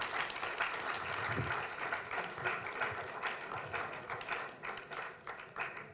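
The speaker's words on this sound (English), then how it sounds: "let's give another round of applause." Audience at a small-business bootcamp event in Lagos gives a steady round of applause, many hands clapping continuously at moderate distance.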